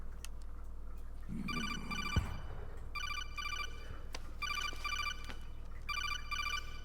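A telephone rings in Metal Gear Solid 4: Guns of the Patriots, sounding in several repeated bursts of bright electronic trilling over a low steady in-game hum, with a brief thud between the first rings.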